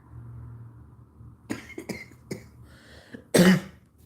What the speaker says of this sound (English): Trying not to cough.